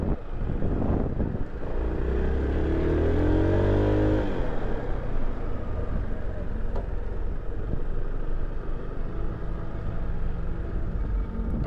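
Honda SH300i 300cc scooter ridden on a test course, the engine revving up in a rising whine and then settling into a steady, rough drone, close and loud, with no talking.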